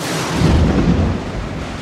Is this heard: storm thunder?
yes